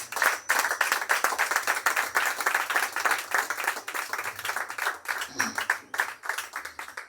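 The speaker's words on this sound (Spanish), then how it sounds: "Dale un fuerte aplauso al Señor." A church congregation claps together in a fast, even rhythm that runs throughout, loud and close, with voices mixed in among the applause.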